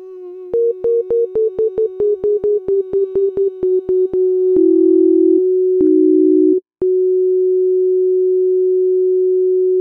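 FM synthesis tones from Ableton's Operator synth: a quick run of short pulsed beeps at a stepping pitch, then longer sustained pure tones with a brief break before one steady held note.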